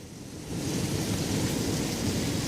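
Steady, dense roar of hail and rain pounding outdoors during a hailstorm, swelling louder after a moment into a continuous wash with a low rumble of thunder underneath, no voices.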